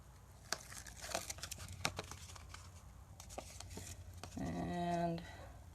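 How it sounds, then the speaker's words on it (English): Adhesive backing is peeled off a paper card piece, giving a soft, close crinkling and tearing rustle that builds into a longer, louder peel near the end, amid light handling noises. "so peel all this off"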